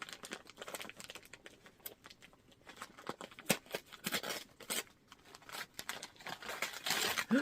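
A crinkly plastic bag holding yarn is pulled open, giving bursts of sharp rustling and crackling at close range, loud and irregular, with brief quieter pauses.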